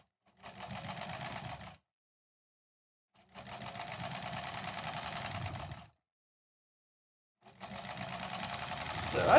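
A sewing machine stitches quilt blocks in three steady bursts of rapid, even whirring, each lasting about a second or two, with short pauses between them.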